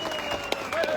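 Crowd clapping at a traditional Indian wrestling dangal, broad applause with an announcer's amplified voice partly over it and a brief sharp burst midway.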